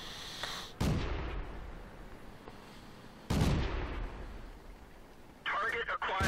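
Tank cannon fire in World of Tanks, two heavy, close booms a few seconds apart, each trailing off in a long rumbling decay, followed by a brighter crackling burst at the end.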